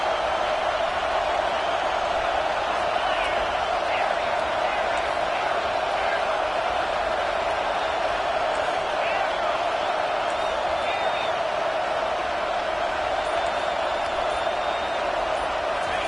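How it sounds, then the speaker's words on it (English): Stadium crowd noise in the NCAA 25 college football video game, a steady, dense roar holding level throughout with no clear peaks, the sound of fans rising to help the defense. "this crowd coming to life here"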